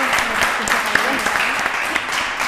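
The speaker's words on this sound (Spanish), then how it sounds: "Fuerte aplauso en este caso" A studio audience applauds a school quiz team after a correct answer, with dense clapping near and loud throughout the short burst, mixed with voices talking over it.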